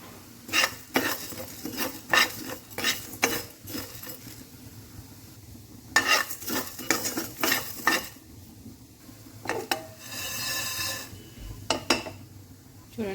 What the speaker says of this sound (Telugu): లైట్గా ఫ్రై చేద్దాం.